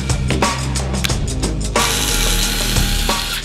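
A screwdriver grinds screws into the frame of a stunt scooter, close and rasping, in quick uneven ratcheting strokes that blend into a steadier, denser turning noise partway through.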